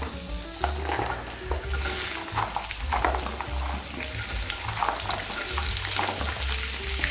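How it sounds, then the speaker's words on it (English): Onions fry in hot bacon grease with a loud, continuous sizzle, crackling close up alongside the scrape and clatter of stirring throughout. "Now we've got some nice hot bacon grease. Add some onions."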